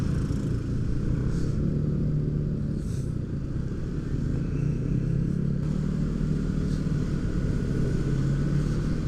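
Motorcycle fitted with an aftermarket exhaust on a Sunday morning group ride, its engine droning steadily and loudly for the whole stretch with a low rumbling tone and no voices.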